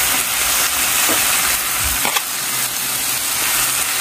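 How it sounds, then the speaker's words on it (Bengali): Potatoes tumbling into a pan of cooked-down spice masala fry with a steady, loud sizzle and hiss, broken by a couple of stirring scrapes and clunks partway through. "এখন এই কষানো মশলার মধ্যে আমি আলু দিয়ে দিয়া।"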